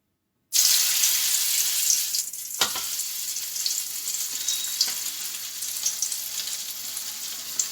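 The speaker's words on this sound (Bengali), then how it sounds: "মাছগুলোকে আমি একটু ভেজে নেব।" Pieces of fish rubbed with turmeric, chilli and salt hit hot oil and burst into a loud, steady sizzle that keeps crackling evenly to the end, with no voices.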